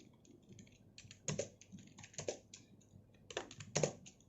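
A computer keyboard is typed on in quiet bursts of close, crisp key clicks while a QBasic program is entered, with short pauses between runs of keystrokes.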